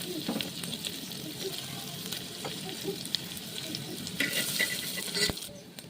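Curry leaves and onions hit hot ghee with cumin in a pressure cooker, giving a dense, continuous sizzle with crackling spatter that swells louder toward the end.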